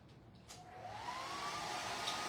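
Hair dryer blowing steadily on a craft transfer for a floral arrangement, rising from a soft start to a continuous breathy whoosh with a faint whine, no talking.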